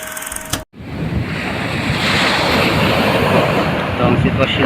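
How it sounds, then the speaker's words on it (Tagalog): Large storm-driven ocean waves surge ashore in Samar during a typhoon, a loud continuous roar of surf mixed with buffeting wind noise after a brief cut near the start. "Alon, lalaki ng alon."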